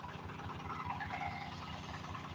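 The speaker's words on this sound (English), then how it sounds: "Just an old tractor with a disc." Old tractor pulling a disc through a field, its engine a low steady idle-like chug with faint knocking, heard from a short distance for a couple of seconds.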